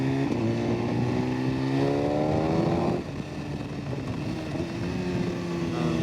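A 2014 BMW HP4 sport motorcycle revs high on the road, its engine tone rising steadily before a sharp drop at a gear change, then settling into a lower, steady drone, loud and close with wind noise.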